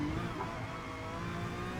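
A race car engine in GT Sport at the Nürburgring holds a steady high-revving drone under load, loud and continuous for the full stretch, with no talking.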